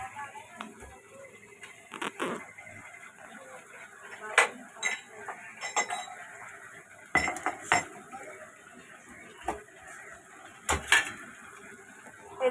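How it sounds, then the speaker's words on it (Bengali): Garam masala is crushed for a chicken jhol, with sharp irregular knocks and clinks of hard whole spices being pounded close by, separated by short pauses. "এই যে গরম মশলাটা থেতো করে নেবো একটু। আওয়াজ হচ্ছে।"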